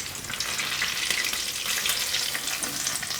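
Maggi potato rolls fry in hot oil, giving off a steady, faint crackling sizzle with fine bubbling throughout and no voices.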